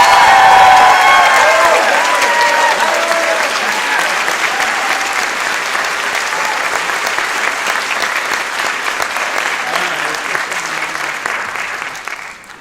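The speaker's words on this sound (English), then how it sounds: "One more round of applause for our class of 2025." Loud, sustained applause from a high school spring chorus concert audience honouring the graduating class of 2025, with some cheering mixed in, a dense wash of clapping that slowly thins and fades toward the end.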